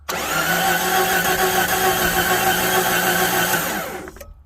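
A 1993 Jeep Cherokee engine cranks steadily on the starter, a loud continuous mechanical whirring with no voices, running for about four seconds before cutting off abruptly.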